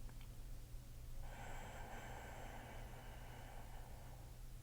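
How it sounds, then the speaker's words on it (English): A slow, deep breath in a quiet meditation setting, drawn audibly for a few seconds over a steady low hum, with no talking. "Begin to take deeper breaths."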